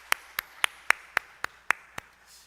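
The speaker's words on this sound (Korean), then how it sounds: "우리 하나님께 영광의 감사의 박수를 돌려드립니다" A single person's hands clap eight times in an even, slow rhythm during a Korean Sunday afternoon church service, each clap sharp and distinct against a quiet room, fading slightly toward the end.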